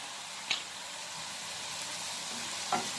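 Beef pieces browning in a hot pan with a little butter, for beef salpicao: a steady, fairly quiet sizzle and fry with two brief utensil clicks, no talking.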